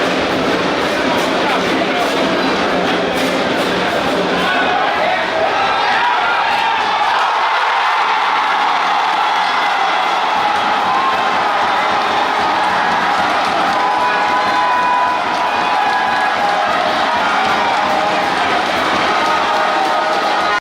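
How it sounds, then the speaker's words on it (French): Football stadium crowd in Benin applauding both teams after a draw between Dynamo d'Abomey and Aema, a broad sustained roar of cheering and clapping heard under a commentator's steady French narration. "Malgré le nul, les deux équipes sont applaudies par le public qui semble satisfait du niveau de jeu."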